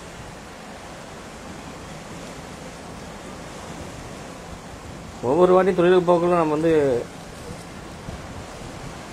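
Rough sea waves surge and wash steadily around a fishing boat on a swordfish trip, loud and constant, while someone talks over the surf partway through.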